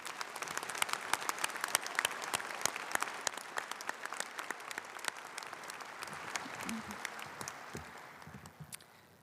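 Commencement audience applauds the Chancellor, a broad crowd clapping with crisp individual claps standing out, fading gradually toward the end.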